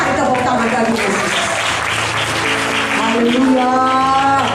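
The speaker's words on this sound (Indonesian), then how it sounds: "Mari tepuk tangan bagi Yesus." A church congregation at a gospel seminar claps hands together, steady dense clapping mixed with loud voices and sustained tones, fairly close and full.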